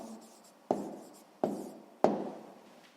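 Three crisp, separate pen strokes land on paper about once every 0.7 seconds as numbers are written by hand at close range in a quiet room, with no talking.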